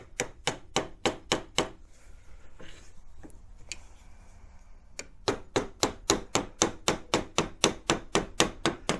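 Steady, sharp metallic taps from a small mallet setting a stone in a ring's bezel repeat in a quick even rhythm, pause briefly, then resume at a slightly faster pace.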